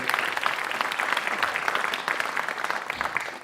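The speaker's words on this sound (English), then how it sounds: "So please give her a round of applause." Steady, full applause from a school board scholar awards audience, dense crowd clapping sustained at an even level throughout without speech over it.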